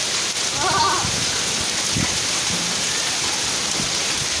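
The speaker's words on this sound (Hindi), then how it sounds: "गाड़ी के ऊपर ओले गिर रहे" Hail patters on top of a car as a continuous dense hiss with scattered sharper hits, while a brief animal-like bleat or voice sounds early on.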